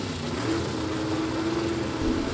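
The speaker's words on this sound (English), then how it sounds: "You can hear the 4-speed cars in the left lane. Listen to them." Drag racing cars with 4-speed manual gearboxes, a Pontiac and a Corvette, revving loudly at staging on a dragstrip; a steady, dense engine roar holds throughout with a sustained droning tone.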